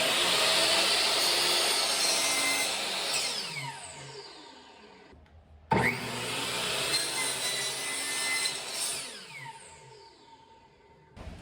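A power saw cuts a scrap of crown molding for an inside corner template, sounding as two loud, close whining cuts, each with its motor winding down in a falling pitch and a brief gap between.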